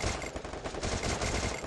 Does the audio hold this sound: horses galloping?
no